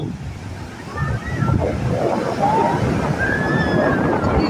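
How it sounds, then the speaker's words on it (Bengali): Sea waves on Puri beach wash and roll in a continuous surf, with gusts of wind buffeting the microphone and faint voices in the background. "পুরীর সমুদ্র সৈকতের ঢেউ দেখো, কি অসাধারণ ঢেউ"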